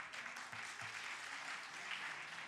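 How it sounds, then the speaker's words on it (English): An audience at a startup pitch competition claps for a competitor in a brief, steady burst of applause, faint and even throughout. "So a big applause to Addadak."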